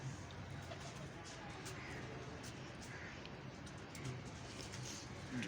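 Shakho pigeons kept in a fanciers' club coo softly, faint low murmuring coos mixed into a busy, noisy background while people talk nearby.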